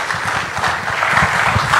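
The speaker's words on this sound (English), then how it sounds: "we all would like to express to you very loud applause and vote of thanks for your leadership" A seated conference audience breaks into steady applause, many hands clapping together in a dense, even patter that holds at moderate loudness throughout.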